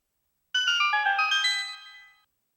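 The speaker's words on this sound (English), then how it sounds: "It's coming from the direction of a gold sculptula, so you can find it by following the sound." Gold Skulltula chime from Hyrule Warriors, a Zelda action video game: a short, bright, tinkling arpeggio of bell-like tones rises quickly, rings clearly for about a second and a half, then fades out against silence.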